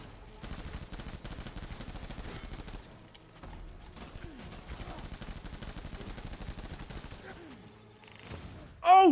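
Enemies fire grenades in a video game: rapid, rattling volleys of shots come in dense stretches with brief pauses, ending in a sudden loud blast.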